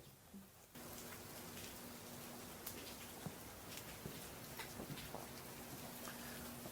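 Steady rain falls at a property after hours, a dense broadband patter with occasional louder drips and ticks close by, continuous throughout with a faint low hum underneath; no one speaks.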